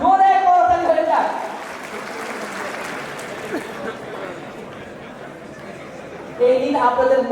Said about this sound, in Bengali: দর্শক ওনাদের জন্য একটা জোরে করতালি হয়ে যাক।